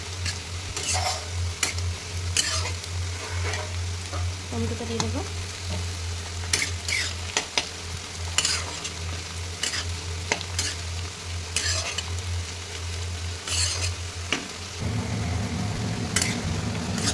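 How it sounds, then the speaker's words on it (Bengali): Greens, onion and tomato fry in a pan with a steady sizzle and occasional stirring scrapes and clatters, an engine-like hum droning underneath and a voice speaking briefly. "এদিকে শাক ভাজা চাপানো হয়েছে, এদিকে শাক ভাজা হচ্ছে।"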